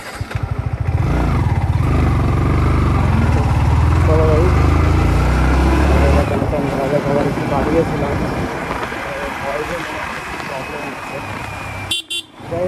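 Yamaha MT15 motorcycle engine started and idling loudly nearby with a steady low rumble for several seconds, then easing into quieter running under ongoing talk, with a brief horn-like toot near the end.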